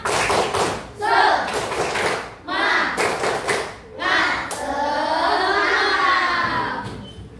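A school class led by a teacher performs a rhythmic group clap, with repeated bursts of hand claps and thumps separated by short pauses, followed by a longer clapping run while children's voices chant along.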